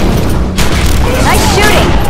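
Rapid gunfire bursts and booms from a shootout in The Secret World video game, loud and continuous against a dense, rumbling battle mix, with voices talking over it.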